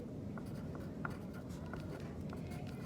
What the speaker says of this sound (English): Give her a second to think and write.